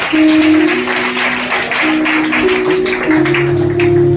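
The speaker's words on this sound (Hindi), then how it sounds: "ताली बजाइए, ताली बजाइए।" Guests clap at a Christian church wedding ceremony in India, moderately loud applause mixed with sustained musical tones throughout.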